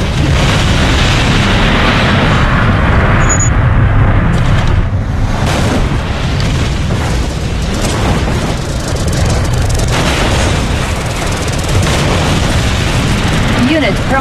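Dense, continuous rumble of rocket missiles detonating in Red Alert 2, V3 Rocket Launcher salvos landing in overlapping booms with a steady loud wash of explosions and game voice lines over the battle.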